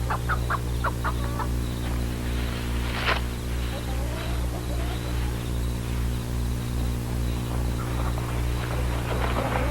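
Chickens cluck in a chicken coop, a few quick clucks early on and a sharper squawk, over a loud steady low hum and hiss.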